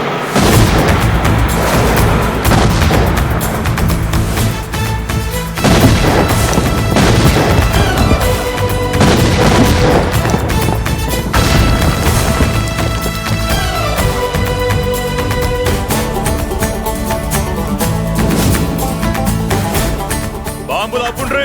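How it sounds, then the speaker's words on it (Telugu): Bomb blasts in a film scene come as loud, dense, repeated booms and crashes, with almost no gap across a long stretch. "బాంబులు ఆపుండ్రీ."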